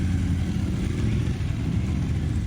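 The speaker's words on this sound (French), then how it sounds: "Les participants sont ensuite montés sur leur moto pour se rendre sur le lieu d'entraînement." Several motorcycles riding off to a training ground, a dense low engine rumble that holds steady and loud without pause, no voices.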